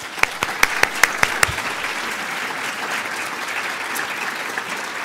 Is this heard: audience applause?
yes